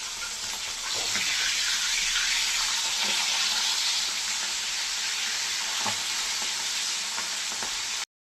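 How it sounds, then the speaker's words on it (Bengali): Close, continuous crackling sizzle of tangra fish frying in mustard oil after flipping, with a few soft clinks of a spatula, cutting off abruptly at the end. "এক পিঠ হয়ে গেছে, আর এক পিঠ উল্টে দিচ্ছি।"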